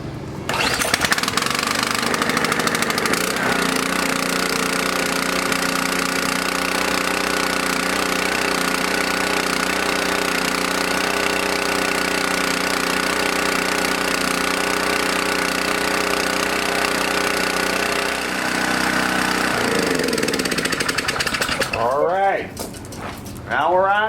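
A small gasoline engine run on a fuel additive drones loud and steady for close to twenty seconds, then cuts out and rattles briefly to a stop.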